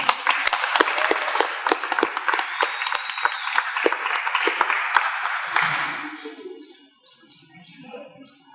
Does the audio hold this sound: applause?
yes